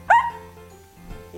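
A dog gives one sharp, loud bark at the door, then a softer whimpering yip trails off about a second later, with quiet room tone between.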